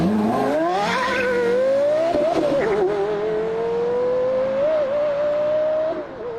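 Porsche Carrera GT's 5.7-liter V10 with 612 horsepower, originally developed for Le Mans racing, sings a loud, high-pitched wail that climbs steadily as the car accelerates, with a brief dip mid-run before settling into a sustained howl.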